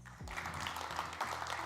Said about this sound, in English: Another round of applause to Nick.